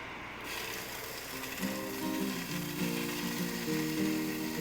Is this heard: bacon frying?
yes